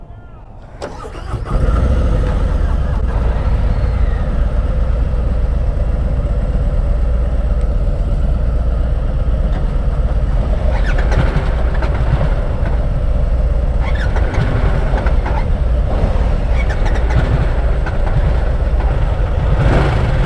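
A 2022 Harley-Davidson Nightster motorcycle engine cranks and fires, then settles into a loud, steady, deep running rumble up close, with small revs and clatters midway through.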